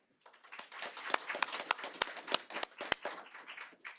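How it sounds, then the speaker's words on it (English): Audience applause at a school district candidate forum. The clapping is sparse and uneven, with distinct sharp claps from individual hands rising quickly over a quiet start, then continuing steadily and fairly close, with no talking. "Give him a round of applause"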